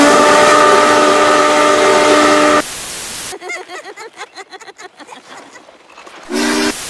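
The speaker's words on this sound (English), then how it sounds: "Steam engines have whistles that sound like this." Steam locomotive whistle from Union Pacific 3985, a loud sustained chime blast that breaks off into chuffing and rumbling sounds, then ends with another short whistle toot.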